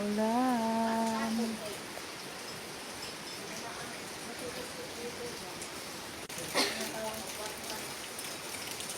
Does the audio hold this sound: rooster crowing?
no